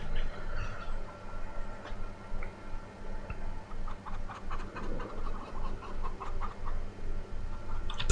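Scattered hen clucks and small ticking sounds from Farming Simulator 25 repeat over a steady low background hum, moderately faint, with no talking.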